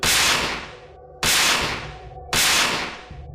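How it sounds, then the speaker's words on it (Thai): Three sharp, loud blasts at roughly even intervals, each with a long ringing decay, like gunshots. "เสียงปืน"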